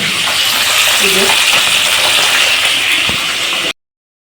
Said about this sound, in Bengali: বড় বড় আইল্যান্ড রাউন্ডগুলো আমি এইভাবে ভেজে নিচ্ছি